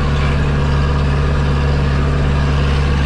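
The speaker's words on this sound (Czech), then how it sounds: "Pořádný zvuk motoru" A Zetor 7011 tractor engine drones steadily and loudly at idle with a deep low hum, continuous and close, no voices.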